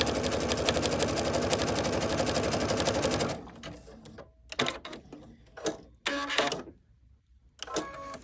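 Sewing machine stitching under foot-pedal speed control, a steady fast mechanical whir for about three seconds, then stopping into scattered clicks and short bursts of stitching.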